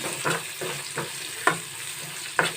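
Lentils frying in a pan for dhaba-style dal tadka, a steady sizzle broken by several sharp scraping stirs of a spoon against the pan.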